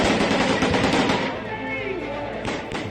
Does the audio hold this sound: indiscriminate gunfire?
yes